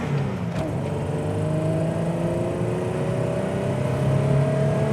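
A 1989 Toyota SR5 on larger tires cruising at around 50 mph, with steady close engine drone, road and tire roar, and a faint whine holding through the whole stretch.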